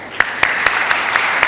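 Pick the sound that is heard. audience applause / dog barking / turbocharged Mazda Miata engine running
audience applause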